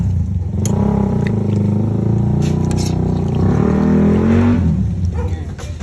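A loud motor engine outdoors drones steadily nearby, heard from a kitchen, its pitch rising and falling slightly as it runs, with faint clicks over the top.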